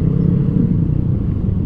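A 2025 Yamaha Aerox 155 SP scooter engine runs close by with a steady, dense low rumble and a gritty mechanical edge, with no talk over it.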